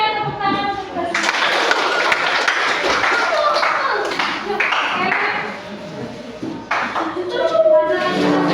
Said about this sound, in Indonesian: tepuk tangan untuk bersih